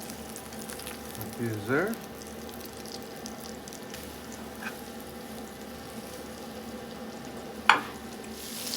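Country-style steak pieces brown in oil in a frying pan, giving a steady, moderate sizzle throughout. A voice speaks briefly near the start, and a sharp clink of utensil on pan comes near the end.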